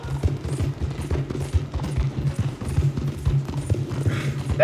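A horse gallops in Red Dead Redemption, loud rapid hoofbeats pounding in steady rhythm throughout, close and alone with no talk.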